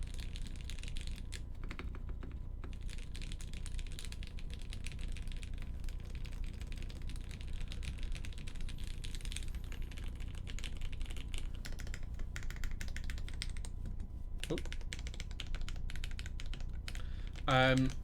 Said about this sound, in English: Okay, typing sound. How good does this sound, guys?